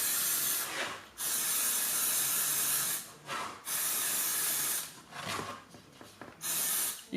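Short bursts from a spray paint can fitted with a trigger grip as chalk paint coats an old picture frame, a steady loud hiss of about four sprays separated by brief pauses.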